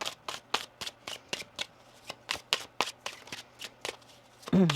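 Tarot cards riffled and shuffled in quick repeated bursts, close up, a rapid flutter of snapping cards ending in a soft thud.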